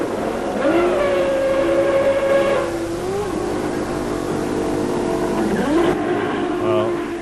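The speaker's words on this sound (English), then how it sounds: "Into the pit lane for the second time comes race leader Damon Hill" A Formula One race car at the 1995 Australian Grand Prix in Adelaide drives through the pit lane, its engine a loud, sustained whine that steadies at one pitch, dips, then climbs again, with a commentator talking over it.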